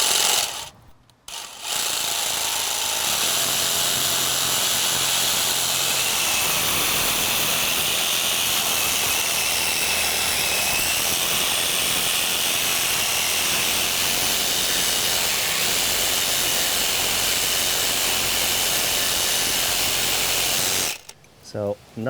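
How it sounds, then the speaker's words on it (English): A Sawzall reciprocating saw fitted with a brand-new metal blade cuts steadily through rusty metal at the edge of concrete stairs, a loud, continuous rasping grind that stops abruptly at both ends. "I'm going to use a brand new metal blade. Just make my cut right here."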